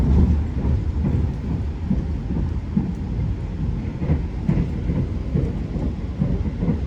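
Interior rumble of the Senja Utama passenger train running fast on flat track between Prupuk and Cirebon, a loud continuous low roar with steady rhythmic wheel clatter, no talk.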